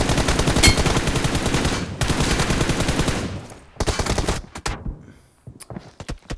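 Automatic gunfire rattles in PUBG Mobile, dense rapid bursts up close that stop and start, ending in a few scattered single shots.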